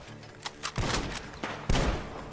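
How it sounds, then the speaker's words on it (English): Gunfire from Red Dead Redemption 2 near a barn: a couple of sharp early shots, then a dense burst and a second loud volley later, booming and close, with no talk over it. "Gunshots are coming from that barn!"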